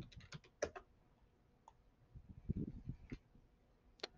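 Faint, irregular keystrokes on a computer keyboard come in short bursts with gaps between them, quiet and close, with no talking.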